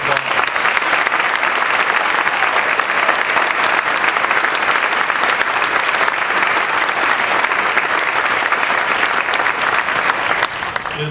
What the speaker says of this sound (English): Let's give them and all of our graduates another round of applause.